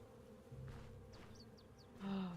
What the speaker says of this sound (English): Where are the angry bees?